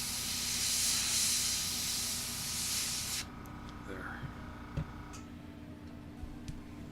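An airbrush sprays paint in a loud, close, steady hiss that cuts off abruptly partway through, followed by quieter handling clicks and taps as the nozzle and needle are cleaned.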